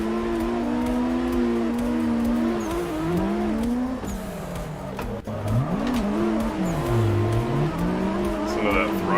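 Engine of a drift car in the Assetto Corsa racing game, revving loud and steady as the throttle rolls on and off, its pitch rising and falling in long sweeps.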